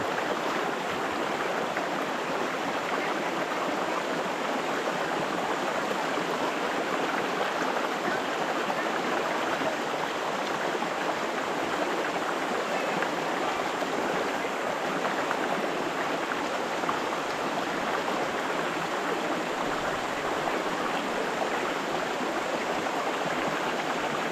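A rural river flows steadily: a continuous broadband rush of moving water that stays even and unbroken throughout, with no voices.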